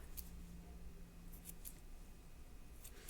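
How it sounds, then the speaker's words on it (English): Scissors snip through macrame cord fringe, trimming an earring into a heart shape; a few short, faint, crisp cuts spaced apart in a quiet room. "I'm going to start down at the bottom and just kind of cut up."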